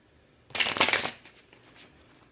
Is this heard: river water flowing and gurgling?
no